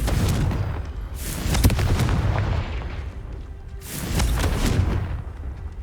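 A Confringo fire spell cast in Hogwarts Legacy, loud booming blasts with crackling bursts that swell twice amid a constant low rumble of battle.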